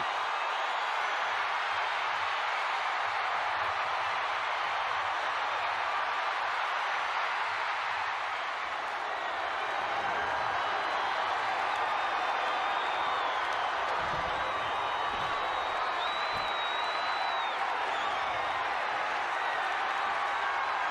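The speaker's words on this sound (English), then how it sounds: "The entire WWE Universe is cheering on Shaq, including yours truly." A large arena crowd in the WWE 2K25 wrestling video game roars and cheers steadily throughout, a dense wall of voices with scattered shouts rising above it.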